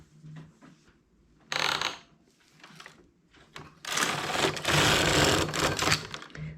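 Domestic knitting machine with a ribber working medium-weight wool, its carriage swept across in two loud clattering, rattling passes separated by quieter clicks and shuffling, heard close up.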